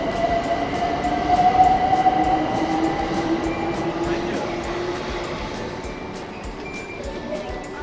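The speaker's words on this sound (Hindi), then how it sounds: "लंदन की ट्रेन है" A London train running near Whitechapel station, a loud steady rumble with a sustained tonal whine and faint wheel squeal, continuous and close throughout.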